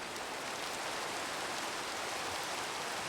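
Steady rain in the Minecraft video game, a dense, even hiss of falling drops that carries on without a break at moderate volume, with no voices over it.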